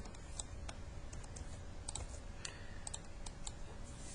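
Fingers type a title and description on a computer keyboard, with quick, irregular key clicks at close range and quiet pauses between short bursts.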